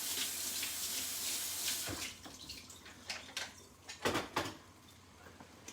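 Running faucet water rinsing a vegetable chopper in a kitchen sink, a steady splashing wash with a few louder clatters and bursts as the chopper is moved under the stream.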